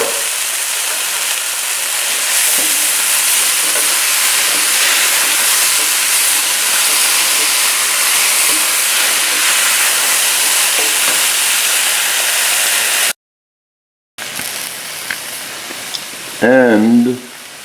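A vine-ripe red tomato sizzles loudly in a hot pan with kale and quinoa, a dense, steady frying hiss close by for several seconds, then a brief silence and softer sizzling with a short voice near the end.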